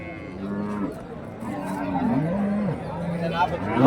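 Cattle at a busy livestock market in Karimangalam, Dharmapuri, give drawn-out moos, several overlapping low calls rising and falling while people talk and murmur nearby throughout.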